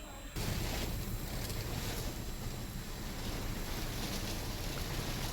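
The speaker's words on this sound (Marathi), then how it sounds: "दुसरीकडे अमरावती शहरातही पावसाच्या सरी बरसल्या।" Steady, dense rainfall from a shower over Amravati city, a constant broadband hiss with wind buffeting the microphone, loud and unbroken throughout.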